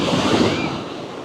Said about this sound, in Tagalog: Grabe kasi talaga yung alon